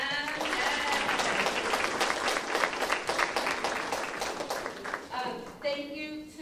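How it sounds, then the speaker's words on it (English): Audience applause during a college chapel service, a sustained round of clapping that fades toward the end as a voice starts speaking. "A round of applause for them."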